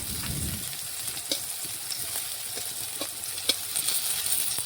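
Pieces frying in oil, flipped one at a time, a continuous close sizzle broken by occasional light scrapes and clicks of the turning utensil, with no voices.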